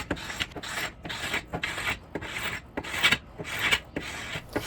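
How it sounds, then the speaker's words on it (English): A painted wood piece being sanded by hand with 150 grit sandpaper, giving steady rhythmic rasping strokes, close and fairly loud, about eight back-and-forth passes with no talking. "I started to sand the piece with 150 grit sandpaper"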